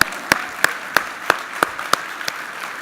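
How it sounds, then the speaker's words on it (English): Audience at a keynote claps in a slow, even rhythm, sharp unison claps spaced about a third of a second apart over a softer background of scattered clapping. "I need you to just start clapping now"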